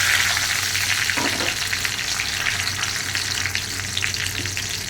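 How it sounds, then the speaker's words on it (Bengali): Two torn bay leaves frying in hot white oil mixed with ghee in a pan, making a close, steady, dense sizzle that continues unbroken without speech. "ওর মধ্যে আমি 2টো তেজপাতা চিড়ে দিয়ে দিলাম।"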